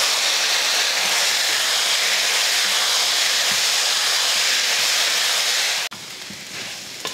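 Green banana curry with coconut sizzling in a hot pan as it gets stirred, a loud, steady close hiss that cuts out abruptly near the end, with no talking.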